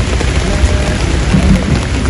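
Heavy rain pours down on the streets of Van's city centre in Turkey, a loud, dense and continuous downpour hiss with no voices.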